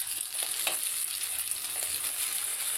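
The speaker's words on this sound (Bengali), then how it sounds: "এবার একটু সাট করে দেব।" An egg sautés in a hot pan with a steady bright sizzle, broken by a few soft scrapes from stirring; no one speaks.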